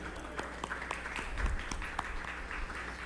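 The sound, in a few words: audience applause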